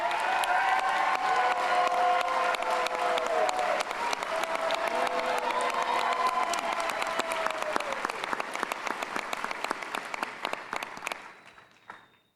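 A graduation ceremony crowd at Valor College Prep bursts into sustained applause and cheering, with shouts and whoops riding over dense clapping that gradually thins and fades out near the end.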